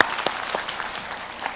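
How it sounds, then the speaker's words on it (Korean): A lecture audience at a Korean talk show on safety and self-defense gives brief applause, a moderate spread of scattered claps lasting just over a second. "오케이, 다시 큰 박수로."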